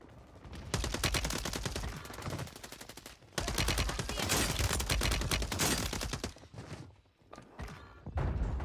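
A Glock fitted with a switch fires full-auto in Call of Duty Warzone on Rebirth Island. Close, loud, rapid bursts of gunshots rattle out in long strings, broken by short pauses and a few last quick volleys.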